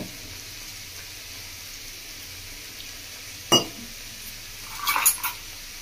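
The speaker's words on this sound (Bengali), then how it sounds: "আমরা ভালো করে গুলে নিয়েছি চালের গুঁড়োটা" A spoon stirs ground Gobindobhog rice flour into water in a bowl, mostly near-silent with faint mixing, broken by one sharp clink against the bowl and a short cluster of clinks near the end.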